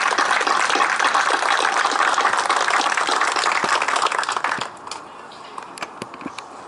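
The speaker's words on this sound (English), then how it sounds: "Please join me in a round of applause for recognition of their efforts." Loud, full applause from the audience at a Naval Submarine Base ceremony, dense and steady for several seconds before stopping abruptly, leaving a few scattered late claps.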